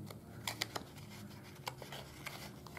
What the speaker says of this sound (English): get my scissors in there just to cut a little bit across